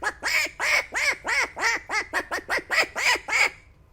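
A human voice mimics a duck, producing a rapid run of about a dozen nasal quacks, close and clear, speeding up toward the end before stopping.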